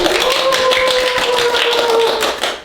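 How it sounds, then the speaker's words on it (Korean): Group clapping from a small gathering at a Korean health class, dense and steady for a few seconds before tapering at the end, with a faint tonal whine running underneath. "다 같이 박수!"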